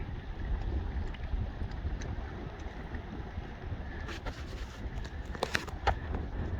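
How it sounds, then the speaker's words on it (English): Strong wind gusting over a jetty at La Sagesse Beach, Grenada, a steady broadband rush with ocean surf below and brief clatter of nearby movement late on; no one talks. "The wind is very high here, as you can hear."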